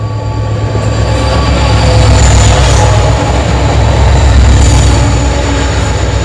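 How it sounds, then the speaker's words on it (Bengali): A freight train rolls in at a railway station, seen from just outside it: a loud, continuous low rumble with steady rail and wheel noise throughout, close by, and no voices. "এখন ট্রেন আসছে।"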